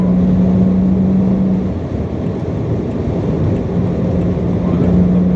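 A BMW 135i M Performance car drives along, its engine a steady low drone heard from inside the cabin, with a constant rumble of road noise and a faint tonal whine that fades and returns.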